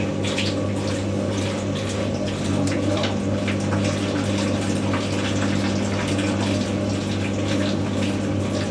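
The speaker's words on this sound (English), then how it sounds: "Most of that's going through the condenser now." Water rushing steadily through the condenser of a Hotpoint WD64 Aquarius Extra washer dryer during a full heat drying cycle, a continuous pumping, gushing flow over a steady machine hum, close and constant throughout.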